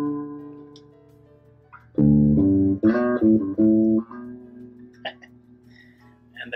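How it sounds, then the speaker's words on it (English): A perfect fourth rings out as the opening of Amazing Grace, a short phrase of a few clear, sustained musical notes played up close after a quiet pause, then a low lingering tone. "And that's the perfect fourth."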